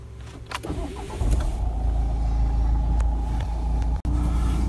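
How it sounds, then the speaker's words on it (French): A car engine cranks and catches, then settles into a steady low idle with a deep rumble, heard close from the driver's seat with a brief click partway through. "vous tournez vers le tableau de bord et une fois que le moteur s'allume"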